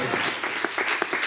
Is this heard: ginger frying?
no